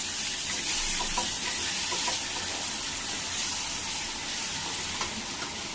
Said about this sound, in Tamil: தக்காளி போட்டு வதக்கிக்கலாம்.